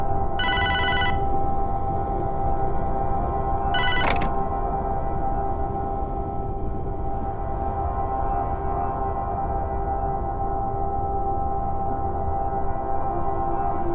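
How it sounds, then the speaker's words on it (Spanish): Telephone in the video game Hotline Miami rings in two short electronic bursts a few seconds apart, each loud and trilling, over a steady low droning ambient hum that carries on alone afterward. "Pero una llamada suena."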